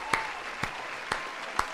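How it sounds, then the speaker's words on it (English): A stream's applause sound effect gives a small round of low claps: four sharp, evenly spaced claps over a faint steady hiss, with no voices. "I could see a round of low claps"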